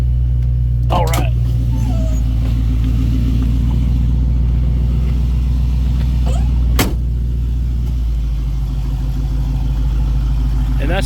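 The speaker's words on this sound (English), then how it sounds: "you might hear the idle change tone just a little bit because the AC is actually working" A 1972 Ford Mustang Sprint idling with the air conditioning running, a loud steady low rumble close by, with a couple of sharp clicks and a voice talking over it.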